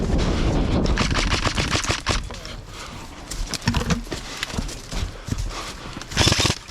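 An HK M110A1 airsoft rifle fires on full auto at an outdoor airsoft field, a rapid run of sharp clicking shots in the first two seconds, then scattered single cracks and footsteps with a voice nearby.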